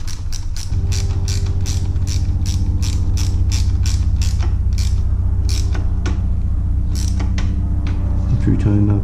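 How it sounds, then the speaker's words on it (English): Ratchet clicking steadily as it tightens a bolt on the rear-set riser of a Honda CBR300R motorcycle, a close, continuous run of sharp pawl clicks over a low steady hum. "And you can tighten that bolt back down."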